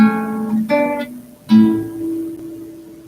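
Three plucked guitar notes ring out one after another, each clear and sustained, the last one left to ring and fade.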